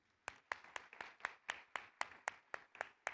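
Steady claps ring out at a regular pace, about two per second, sharp and fairly close, with no voices over them.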